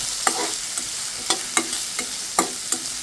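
Onion and green chili frying in mustard oil: a soft continuous sizzle punctuated by about seven crisp spatula knocks against the pan at an uneven, unhurried pace, with no one speaking.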